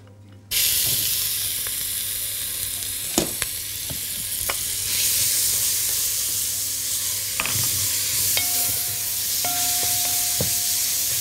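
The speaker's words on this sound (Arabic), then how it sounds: "نعصج اللحمة عادي." Minced meat and onion fry in olive oil in a pan, with a loud, constant sizzle that starts suddenly and continues throughout, broken by occasional clinks and scrapes from stirring.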